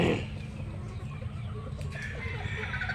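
Two hens cluck softly and intermittently in a farm setting, their calls sitting low in a steady, close background murmur with no voices.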